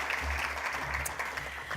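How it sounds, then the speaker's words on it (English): Audience applause at a school sports awards ceremony, a dense, steady wash of clapping that holds for a couple of seconds at moderate volume. "So let's give Annabelle and Cole one last big round of applause as they return to their seats."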